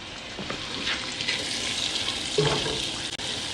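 Vegetables sweat in melted butter in a pot for potato soup, giving a soft, steady sizzle and faint crackle with a brief clatter of stirring, heard up close with no talk.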